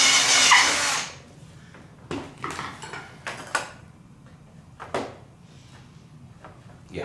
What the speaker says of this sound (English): No, we're still on to the rat tail rasp.